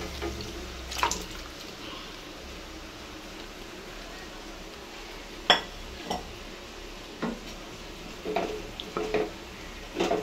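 Cooked mutton being tipped into a pot of masala and stirred in a home kitchen, soft wet scraping and occasional clanks of a spoon against the metal pot over a low background.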